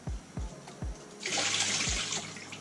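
Shower water rinsing algae from the roots of a houseplant grown in water, a steady close spray that starts partway through, preceded by a few dull low thumps.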